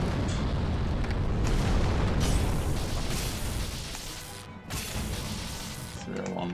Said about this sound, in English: Fire bomb.